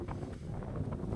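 Wind buffets the microphone at the fog-covered summit of Ratangad fort, a faint, steady rushing roar with no voices.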